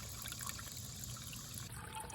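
Water pours steadily into a CNOC Vecto collapsible water container, a soft continuous trickling and filling sound that stays faint and even throughout.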